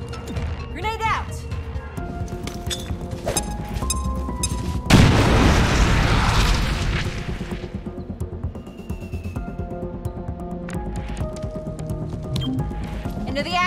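A grenade explodes in the squad tactics game XCOM: Chimera Squad, one loud booming blast with a rumbling tail amid game music and effects, with a voice calling out just before.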